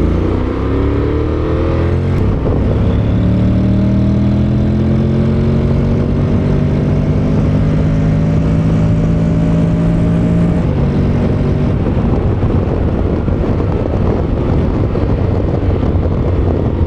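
A Honda X-ADV maxi scooter engine drones loudly and close up during a test ride, its pitch rising and falling through acceleration, with heavy wind rush throughout.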